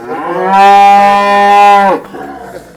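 A brown Sahiwal cow at a Punjab cattle sale gives one long, loud moo up close, holding a steady, deep tone for over a second before breaking off, with no voices over it.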